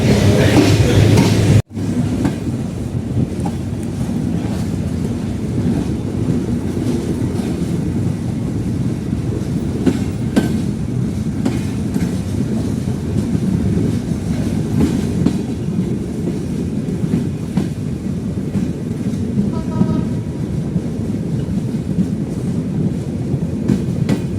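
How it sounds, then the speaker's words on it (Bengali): A passenger train, the Sundarban Express between Khulna and Dhaka, rumbles steadily along the rails with a continuous low roar and faint rhythmic clatter, heard from inside over a long stretch. "এখন ট্রেনটি ছেড়ে দিয়েছে আবার"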